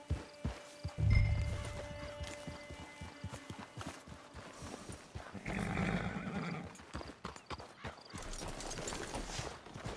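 In the Red Dead Redemption 2 video game, a horse neighs loudly near the start while hooves clip-clop in a steady rhythm underneath. A second whinny comes midway, and the hoofbeats keep going to the end.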